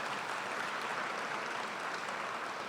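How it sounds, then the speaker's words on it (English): Applause from an audience at a ribbon cutting for the Center for Innovation in San Pedro, a steady broadband clapping wash that holds fairly loud and even throughout. "give them a great big round of applause"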